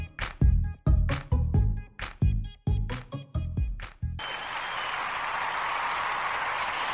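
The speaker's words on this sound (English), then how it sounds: "As the cheering is going" Cheering and applause open a podcast intro, bursting in sharp rhythmic waves of clapping for about four seconds, then settling into a steady, dense wash of crowd noise.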